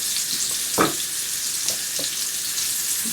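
Oil sizzles and fries in a pan before a ribeye steak goes in, a steady hiss close up with a few faint clicks and taps, no talking.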